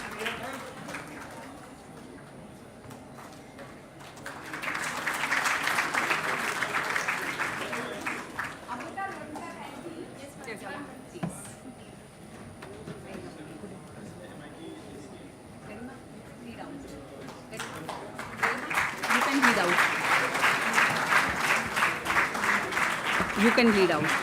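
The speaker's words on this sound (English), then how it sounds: "let's keep the applause going on in the hall" Audience applause fills a hall at a Toycathon event, swelling in two loud waves with quieter, scattered clapping and murmuring between them, then rising strongly again at the end.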